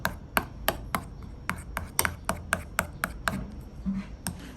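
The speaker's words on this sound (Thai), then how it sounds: "เอาพุทราจีนกับเกากี้นะคะ มาหั่นให้มันละเอียด" Dried Chinese jujubes and goji berries are chopped finely with a knife on a board, about a dozen sharp, evenly spaced knocks in a quick steady rhythm, close and clear.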